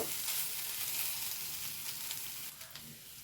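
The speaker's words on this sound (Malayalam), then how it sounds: "നാളികേരം ഒന്ന് മൂത്ത് വരട്ടെ" Grated coconut roasting in a pan for a masala curry gives off a steady, soft sizzle and crackle throughout, fairly quiet and close, with a faint clink near the end.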